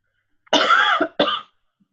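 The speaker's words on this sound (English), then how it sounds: "I'm going to take this opportunity to cough myself out." A person coughs twice in quick succession, a longer harsh burst followed by a shorter one, close and fairly loud against silence.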